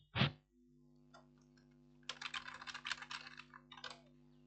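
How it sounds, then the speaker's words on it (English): Quick bursts of typing on a computer keyboard, a loud click at the start, then a rapid run of close, crisp keystrokes over a steady electronic hum. "click and type anything"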